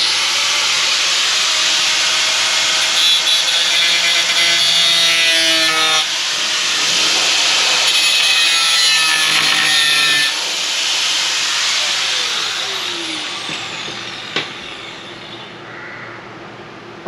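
Cutting tool hissing and grinding off a burr beneath a welded fender patch, a loud continuous close whine with shifting pitch and a few brief pauses, ending in a sharp click as it winds down.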